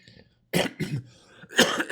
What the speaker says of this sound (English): A little cough in there.